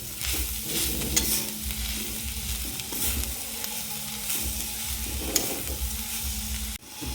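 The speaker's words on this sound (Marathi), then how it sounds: "खोबरे चांगले भाजल्यानंतर आपल्याला त्यामध्ये घालायचे आहे साखर व यालासुद्धा व्यवस्थित प्रकारे मिक्स करून घ्यायचे आहे" Roasted grated coconut and sugar are stirred in a pan over a low flame. A soft sizzle sits under repeated rhythmic scraping strokes, with a couple of sharper knocks against the pan.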